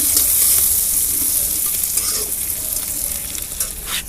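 Leafy greens sizzle and crackle in a hot pan over a wood-fired stove outdoors, with scraping and stirring sounds mixed into a constant close frying hiss.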